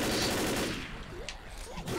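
Gunfire in the Left 4 Dead co-op zombie campaign, The Sacrifice finale: a dense, loud burst of rapid shots at the start that thins into scattered distant pops, with faint voices underneath.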